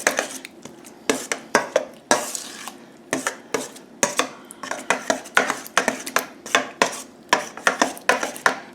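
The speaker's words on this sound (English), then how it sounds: "give this a good mix." Hot sauce being mixed in a bowl, with rapid, rhythmic clinks and scrapes of a utensil against the bowl, loud and close, repeating steadily with brief pauses.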